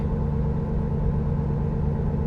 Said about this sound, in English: Because I'm driving a truck and I want to keep it within the speed limit.